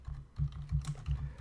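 Typing on a computer keyboard: a quick, uneven run of close plastic key clicks and taps, heard alone.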